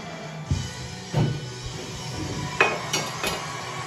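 Pumpkin insides being scraped and pulled out for a family's first jack-o'-lanterns, heard as scattered scrapes and knocking thuds against the shell, several sharp hits spaced over a few seconds, close by with no talk.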